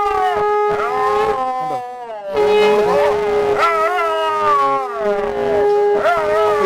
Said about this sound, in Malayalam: ഈ സമയത്താണ് നന്നായിട്ട് ഓരി ഇടുന്നുണ്ട് പട്ടി